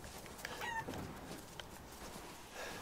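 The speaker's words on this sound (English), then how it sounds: "Oh, chickens!" Chickens cluck in a farmyard in the survival horror game Resident Evil Village, with a few short, mid-distance clucks and chirps over a steady, low ambient bed.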